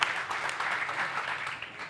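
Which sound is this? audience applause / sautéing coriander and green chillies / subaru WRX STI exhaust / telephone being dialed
audience applause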